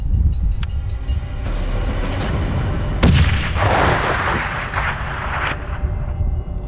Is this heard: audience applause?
no